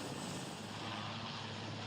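A military helicopter flies overhead in Spain, giving a steady, loud, continuous rotor and engine drone with no other sounds.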